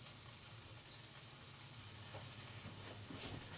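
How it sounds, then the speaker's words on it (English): Butter melting in a pan while making chicken Alfredo gives a faint, steady sizzle and hiss, continuous and close, with no voices over it. "let's melt that butter"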